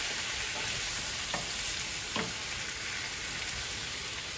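Onions frying in a pan for pepper shrimp, giving a dense, steady sizzle up close with a few soft scrapes of stirring, and no voices.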